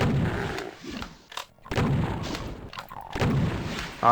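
Gunfire in the video game Doom 2 comes in several bursts of rapid, punchy shots separated by brief pauses, loud and close.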